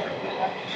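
The Circar Express passenger train runs along the line, a steady close rumble and rattle of carriages heard from on board, even and continuous with no talk.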